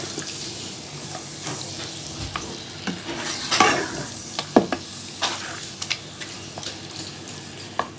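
Chopped ginger and garlic fry in a pan for mutton with turnip, a close sizzle broken by scrapes and knocks of a spoon stirring, with a louder clatter near the middle.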